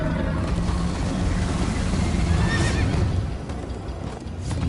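A horse in the game Minecraft Story Mode neighs and whinnies over continuous galloping hoofbeats during a chase, loud and close with no talking.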